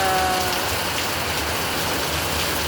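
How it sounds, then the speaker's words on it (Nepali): Steady evening rain pours down outdoors, a dense continuous hiss of drops striking surfaces, loud and close throughout with no voices. "हेर्नुहोस् कसरी पानी परिरहेछ।"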